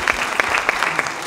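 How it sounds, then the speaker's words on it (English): An audience at a Caribbean tourism event breaks into applause, with distinct rhythmic hand claps repeating close by for about a second. "Give him another round of applause"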